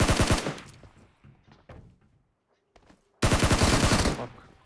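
Automatic gunfire in the mobile battle-royale game PUBG Mobile, two loud rapid bursts with a quieter stretch of scattered shots between them.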